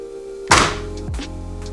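A replica MW2 ACR gun fired indoors in a house, one sharp loud thunk followed by a lighter mechanical clack, set against a steady low hum.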